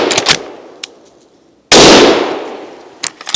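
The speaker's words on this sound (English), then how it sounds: "All I have to do to cock the rifle is put the bolt forward like that." A Haenel Jaeger NXT straight-pull rifle in .30-06 has its bolt worked and cocked: light metallic clicks, then one loud, sharp close clack that rings and fades, followed by a few small clicks.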